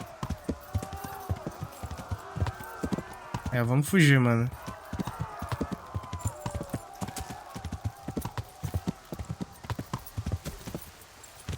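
Galloping horse hooves in the medieval game Kingdom Come: Deliverance, a steady rapid clip-clop throughout with a loud whinny partway through, while someone talks over the gameplay.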